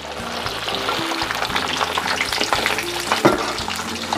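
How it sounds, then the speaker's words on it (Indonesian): Shallots, garlic and red chilies sizzling in hot oil in a pan for an Indonesian grilled-chicken sambal, a dense, steady crackle close by with faint stirring scrapes and one sharper pop near the end, no voices. "Bahan sambal ayam bakarnya saya goreng dulu ya."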